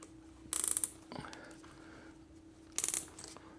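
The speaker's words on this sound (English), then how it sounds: "Get the bumper in position and pull the zip ties tight." Zip ties are pulled tight while a bumper is fitted during a TASACA V58 assembly, giving two short bursts of rapid ratcheting clicks, close and crisp, with a faint clunk between them.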